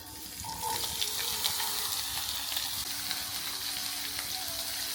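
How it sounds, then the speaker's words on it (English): Onions cooking in a pan in a home kitchen, a gentle steady sizzle at low level with faint clinks, no voices. "As the onions start cooking, the kitchen slowly fills with aroma."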